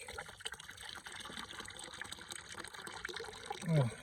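Water poured off sand and gravel from a gold panning beaker, a steady wet trickle and slosh that swells into a louder gush near the end, close by with no talking.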